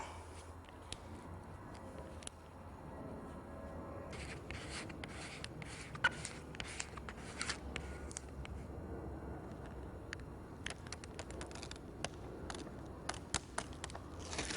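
A bank card is pushed across adhesive plastic film to smooth it onto a car sun visor, making faint, soft scraping and rubbing with small ticks and clicks scattered over a low room hum.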